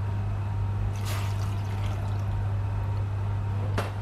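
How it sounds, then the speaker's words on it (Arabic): Cold tap water poured into a pot at home for churros, a steady continuous splashing pour with a constant low hum behind it and a couple of brief brighter splashes. "نحتاج إلى 3 أكواب من الماء، ماء عادي بارد، نضعه في إناء على نار متوسطة"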